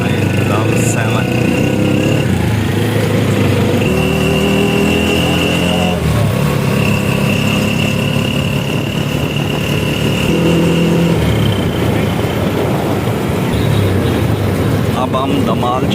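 An auto rickshaw engine drones loudly and continuously while riding through town streets past Jahaz Chowk, with road rumble throughout and someone talking over it.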